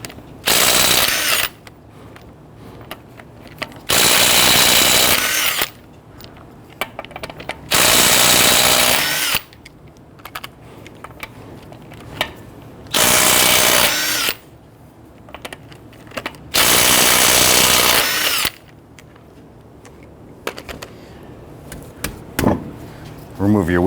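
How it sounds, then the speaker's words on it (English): Impact wrench with a 21mm socket loosening and removing lug nuts on a Nissan Quest front wheel: several loud, steady whirring bursts of a few seconds each, separated by quiet gaps with small clicks of handling. "Using a 21mm socket, loosen and remove your lug nuts."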